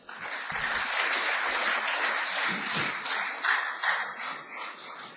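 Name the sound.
applause welcoming Rajiv Dixit to the stage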